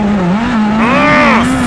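A midget dirt race car practicing on a speedway track, its engine holding a loud, steady high-pitched drone with a brief rising whine layered in, close and continuous.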